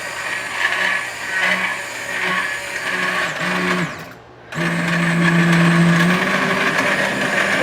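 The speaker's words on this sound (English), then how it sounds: "So use your stick blender" A stick blender purees potato, turnip and rutabaga soup in a pot, a loud close steady whine that dips briefly as the blade lifts, then resumes at a higher pitch.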